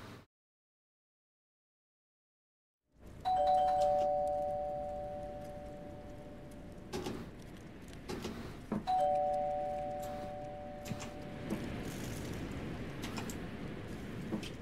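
A two-tone doorbell chimes twice at a front door late at night in the horror game Fears to Fathom: Woodbury Getaway, each ring clear and fairly loud over a low ambient hum after a silent start.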